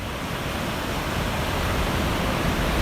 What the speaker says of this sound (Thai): ตรงนี้ก็เป็นทะเลครับ